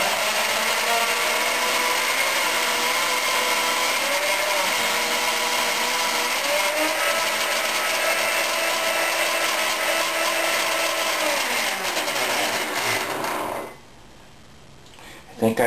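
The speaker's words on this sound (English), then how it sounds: "just turn the blender on, and there you go" A countertop blender runs continuously for about thirteen seconds, blending frozen spinach into a green smoothie. The loud motor whine shifts pitch as the load changes, then cuts off abruptly near the end, leaving a quiet tail.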